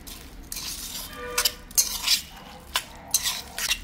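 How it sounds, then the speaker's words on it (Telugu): Spoon scraping and stirring through oily biryani with crisp fried potatoes in a metal pot, a run of close clinks and scrapes in uneven bursts, with a faint sizzle beneath. "ఆయిల్, మొత్తం ఒకసారి కలిపేసుకుందాం."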